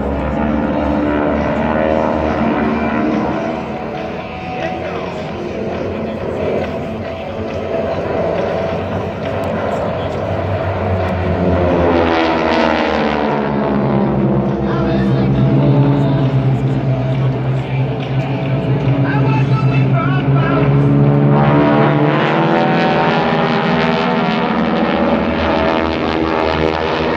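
Nine-cylinder Pratt & Whitney R-1340 radial engine powering an aircraft at an air show, a loud continuous droning roar that swells and shifts pitch as the plane passes, with voices audible under it.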